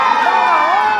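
Excited children and other audience members in a planetarium show yell in unison, producing a loud, close, continuous wave of shouting that lasts about a second.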